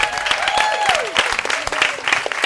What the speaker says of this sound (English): Let's give these ladies one last big round of applause.